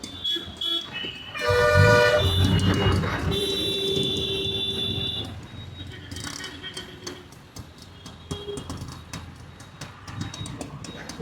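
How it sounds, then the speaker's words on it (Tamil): Busy city traffic in Pondicherry rolls past close by, with a loud, sustained car horn and several shorter honks and beeps over a constant rumble of engines. "டிராஃபிக்கை பாருங்கள் ஃப்ரெண்ட்ஸ்."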